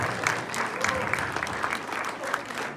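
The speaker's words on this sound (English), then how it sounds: "Give him a round of applause." An audience at a school production of a Twilight Zone play applauds the lighting technician, with steady, dense clapping throughout and scattered louder claps standing out.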